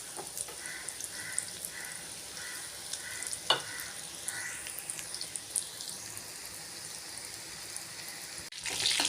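Marinated prawns frying in oil for a crispy seafood starter, a soft continuous sizzle with occasional crackles and stirring clinks, faint and close.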